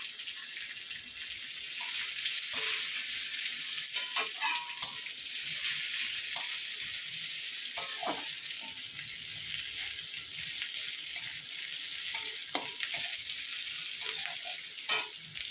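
Onion and garlic fry in a pan with a steady, close hiss, broken by scattered clicks and scrapes of stirring, with no voices over it.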